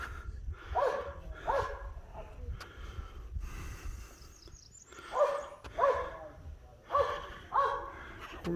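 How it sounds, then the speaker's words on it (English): Dogs barking down below a lookout cabin: distant, paired barks in irregular bursts, moderately faint, with murmured voices and outdoor noise underneath. "people's got dogs down yonder"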